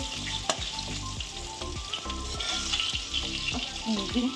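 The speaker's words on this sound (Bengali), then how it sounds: "মাছটা ভাজা হয়ে গেছে, তুলে নেব।" Steady crackling sizzle of poa bhola fish frying in hot oil, with faint scraping and clinks from a utensil now and then, close up and continuous.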